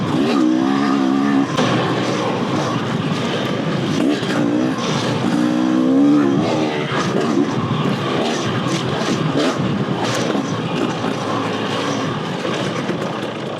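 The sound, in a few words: 2-stroke dirt bike engine revving in third gear on trail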